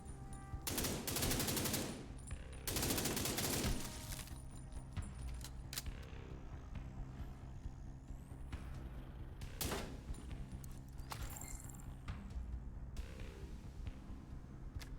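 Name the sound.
gunfire in video game The Division 2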